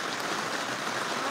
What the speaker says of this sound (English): It's like actually raining behind us